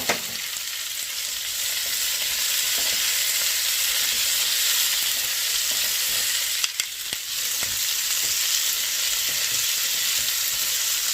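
Peppers and onion stir-fried in a hot pan for Thai drunken noodles give off a loud, steady sizzle for the whole stretch, with a few brief clanks from tossing and stirring and no voices.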